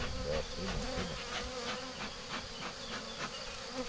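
Dense buzzing of honeybees crawling on the frames of a De Layens hive during a transfer between hives, a close, continuous wavering drone of many wings with no talk.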